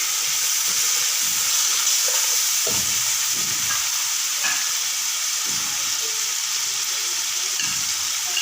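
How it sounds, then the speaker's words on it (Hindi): Finely chopped tomatoes fry in a pan for a smoky chicken curry, giving a constant bright sizzling hiss with a few soft stirring scrapes and thumps underneath. "अब इसमें बारीक कटे हुए टमाटर,"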